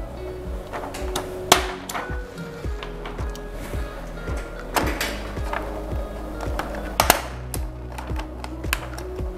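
A staple gun fastening the pad of a DTF drying machine in place, sharp mechanical clacks and thumps repeating irregularly over several seconds, close and fairly loud.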